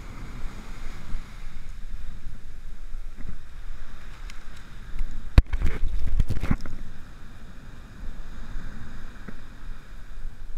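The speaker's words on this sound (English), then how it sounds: "I can really hear that wind blowing." Wind buffets a microphone on an ocean beach during surfcasting, a steady low rumble with waves in the background and a louder gusty burst in the middle, no voices.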